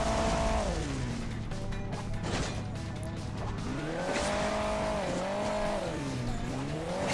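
A sports rally car engine in the mobile game Hill Climb Racing 2 revs steadily, pitch swooping down and back up as it throttles over terrain, with tire squeal mixed in throughout; no one talks.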